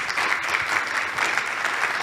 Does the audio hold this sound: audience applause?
yes